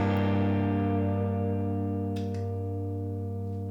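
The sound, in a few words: guitar freeze pedal sustaining a chord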